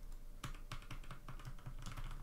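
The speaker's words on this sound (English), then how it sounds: "I'm tired from all this typing, but I'm really happy with this board." Continuous typing on a Velocifire VM02WS mechanical keyboard with MX Brown clone switches, a steady run of close, crisp key clacks and thocks at an uneven rhythm with no talking.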